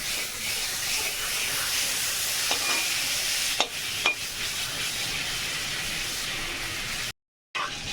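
Butter melts in a hot kadai with a steady, even sizzling hiss, a couple of faint clicks partway through and a short dropout of silence near the end.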